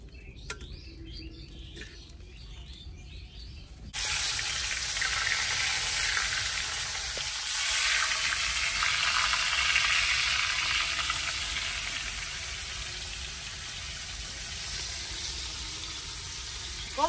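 Fish frying in oil outdoors beside a pond, a steady loud sizzle that jumps up after a quieter start and holds for a long stretch, with faint bird chirps in the background.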